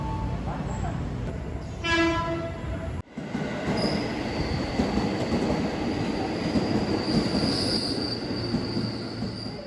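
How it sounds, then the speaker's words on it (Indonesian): Commuter train arriving at a station platform, with rumbling wheels, a high wheel squeal and a brief horn tone early on, then a continuous rolling roar; platform announcements and talk are heard. "Jalur 2 akan masuk komuter lain tujuan ke stasiun Manggarai"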